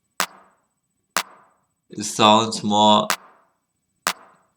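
Reverb-drenched clap sample from an electronic rave music production, four sharp claps spaced about a second apart with short decaying tails, while a voice speaks briefly between them.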